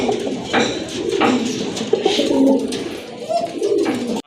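Large black-and-white Sirazi pigeons coo in low, throaty, repeated phrases, close and fairly loud, with soft rustling and a faint clink in the background.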